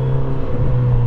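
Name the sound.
Kawasaki Z900 RS motorcycle stock exhaust revving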